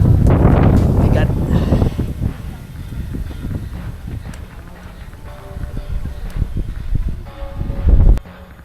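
Gusty wind on Mount Balagbag buffets the microphone in low rumbling bursts, loudest at the start and again near the end, with people talking through it outdoors in the evening.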